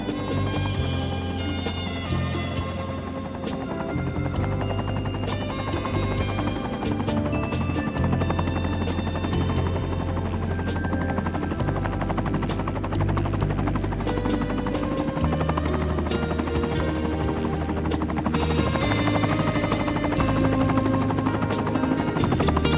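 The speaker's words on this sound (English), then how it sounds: "let's stay with this helicopter." A helicopter's rotor in the video game Cities: Skylines II drones continuously, a loud buzzing thrum that holds steady with slight shifts in pitch throughout.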